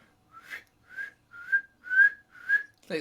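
A person whistles a series of six short rising and falling chirps, evenly spaced, imitating a dolphin-like whistle, close and clear.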